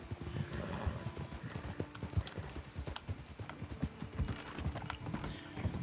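Horse hooves clip-clopping steadily across open ground in the video game Red Dead Online, a continuous close, even trotting rhythm with no talk over it.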